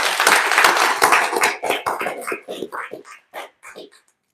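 Audience at a handing-over ceremony at an embassy claps, a dense burst of applause that thins out into scattered claps and fades over a few seconds.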